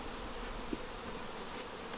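Honey bees hum in a soft, continuous drone at a hive during winter feeding, with a faint low buzz close by and no voices.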